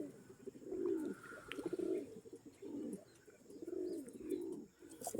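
Several pigeons of an old breed coo in soft, repeated low rolling phrases from a loft. There are about five cooing bursts in steady succession, and faint chirps sit in the background.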